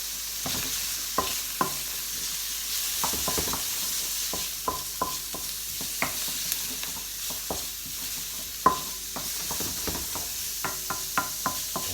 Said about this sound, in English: in with your raw prawns, just keep stirring those around